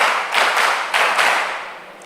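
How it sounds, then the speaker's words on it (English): A group of students at a mentorship session applauding themselves, a bright burst of many hands clapping that swells twice and then tapers off, with no voices. "Clap for yourselves."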